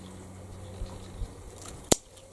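A single sharp snip of pruning shears cutting back a rose stem to take cuttings in June or July, one crisp click near the end against quiet outdoor background.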